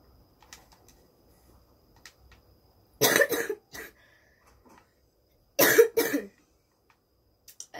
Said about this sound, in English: sorry I'm coughing. I do have a cold